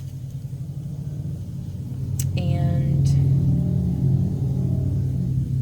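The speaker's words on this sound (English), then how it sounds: "Please pardon traffic noises." Road traffic rumbles outside, with a passing car swelling in a low engine drone and a brief higher whine, while a voice briefly speaks during a wire-wrapping session.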